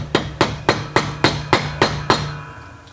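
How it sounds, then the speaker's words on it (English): Eight sharp, evenly spaced soft-faced hammer taps seat a bearing in a Triumph Spitfire gearbox, close by, each with a short metallic ring, in a steady rhythm before stopping. "as it's resting, just tap it down. You want a soft-faced hammer, so rawhide, lead"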